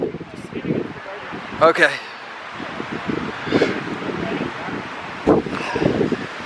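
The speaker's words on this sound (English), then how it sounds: "So while the wind is really bad" Strong wind at the Palm Springs Tramway buffets the microphone in loud, rumbling gusts, with a person talking briefly through the noise.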